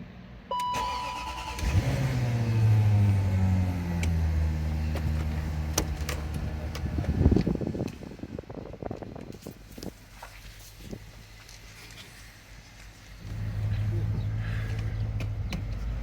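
A Range Rover L322 with a freshly repaired transfer box starts with a whirring crank, then its engine settles into a steady mid-pitched idle. The note drops off briefly and returns as a low, even drone, with a voice talking quietly nearby.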